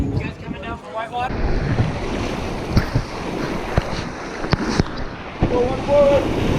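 Whitewater river rushing during a rafting trip in Fishlake National Park, Utah: a steady broad roar of churning water fills the whole stretch, with wind buffeting and scattered splashes, and people shout and talk over it.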